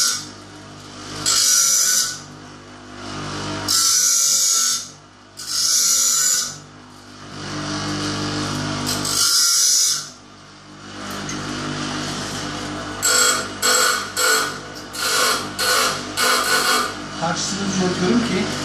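A power tool grinds the tip of a broken screwdriver in loud, abrasive bursts, first in several long passes with short pauses, then in quicker repeated short strokes.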